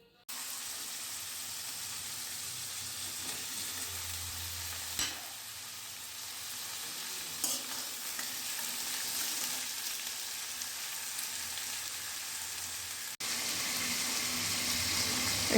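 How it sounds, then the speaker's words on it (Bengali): Potatoes, drumsticks and tomatoes fry in oil in a wok with a steady, quiet sizzle, broken by occasional stirring scrapes and a louder burst near the end. "গরম হওয়ার পর আমি আলু, সজনে ডাঁটা ছেড়ে দিয়েছি তেলে, এবং 2-4 বার নাড়াচাড়া করার পর টমেটোটাও দিয়ে দিয়েছি।"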